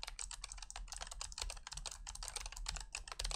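Fast, steady typing rattles on a mechanical keyboard with an aluminum top case, crisp clicky keystrokes in a dense continuous run, close and clear without any talking.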